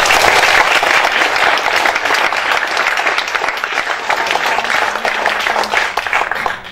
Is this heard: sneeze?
no